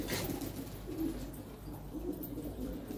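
A local pigeon coos close by, with soft, low, rounded calls repeating roughly once a second over a faint background rumble.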